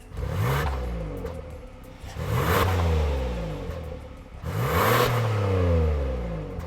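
A 2023 Kia Telluride X-Pro with its 3.8-liter V6 and 8-speed automatic revs three times, each rise swelling then falling away, loud and close with a steady idle hum between pulls and no talking.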